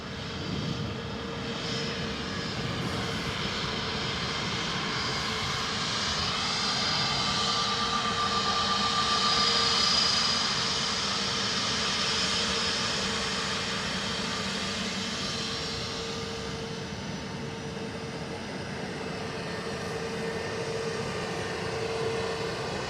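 A fixed-wing airliner landing on runway 28 left at Dublin Airport, a steady broad jet roar that swells to a peak around the middle and slowly eases, heard from a distance with a faint high whine and no talking.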